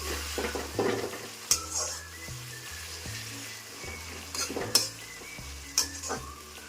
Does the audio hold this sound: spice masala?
yes